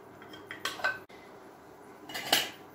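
An eighteenth-century tansy mixture is stirred and pushed around a pan on a fierce induction hob, giving a few scraping clinks of utensil against metal over faint background hiss.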